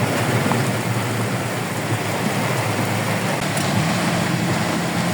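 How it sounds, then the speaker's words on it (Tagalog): Heavy rain pours down in a dense, steady hiss, loud and unbroken, over a low rumble of traffic at the Moni Tunnel. "Grabe ang lakas ng ulan"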